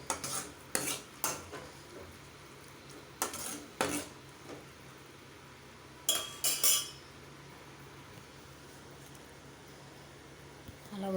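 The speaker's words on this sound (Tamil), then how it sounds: "நல்லா கிளறி விட்டுக்கலாம்." A spoon stirs boiled cowpea curry in a cooking pot, with scattered scrapes and metallic clinks separated by quiet pauses over a faint background hiss.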